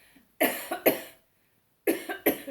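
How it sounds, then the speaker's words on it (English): Two short bursts of dry, tickly-throat coughing, each made of two or three quick hacks, close to the listener with a pause between bursts. "Excuse me. Tickly cough."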